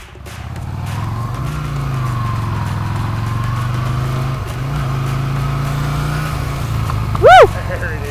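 Yamaha motorcycle ridden off by a beginner rider, its engine droning steadily nearby with slight rises in pitch as it pulls away, and a brief sharp squeal near the end.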